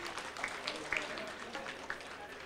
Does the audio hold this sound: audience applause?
yes